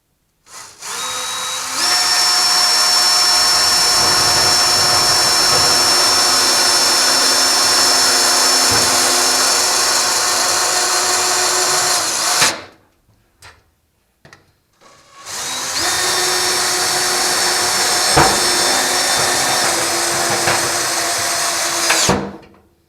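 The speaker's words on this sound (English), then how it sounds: "So first we're going to put a couple of screws in the back corner here just to hold it in place." A power drill drives screws into a T Bucket transmission tunnel panel, with two long, loud, steady whirring runs separated by a brief quiet pause, close up and without speech.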